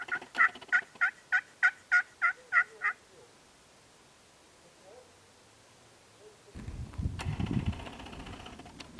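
Wild turkey gobbling during a Colorado spring hunt: a rapid run of about nine loud, rhythmic gobbling bursts, then near-quiet, followed by rustling and wind noise close by.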